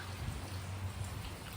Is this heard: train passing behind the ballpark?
no